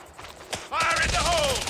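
Rapid gunfire in a video game, aimed at a ship, starting abruptly after a brief pause and rattling on loud and dense with a speaking voice mixed over it.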